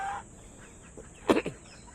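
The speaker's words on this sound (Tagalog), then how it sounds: "Ito naman, mga manok na ito," Farm chickens kept alongside geese give a few brief clucks at moderate distance, with quiet gaps between the calls.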